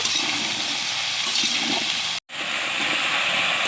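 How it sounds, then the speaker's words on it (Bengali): Mixed vegetables for Bengali panchan fry in a pan with a steady, close hiss of sizzling that runs throughout, broken only by a brief silent gap partway through. "এবার আমি আরও দুই মিনিট খুব ভালো করে ভেজে নেব"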